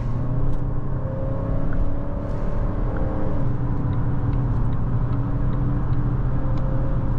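A 2016 Volvo XC90 D5 diesel SUV with 225 hp pulls onto a motorway. Inside the cabin its engine gives a steady, low, droning rumble, with road and wind noise building as it accelerates.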